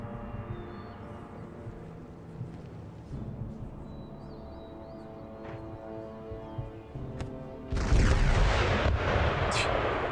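Demi cannon artillery firing in the video game Empire Total War, heavy booming cannon blasts that build into a loud, sustained roar of gunfire near the end, over a rumbling battle backdrop.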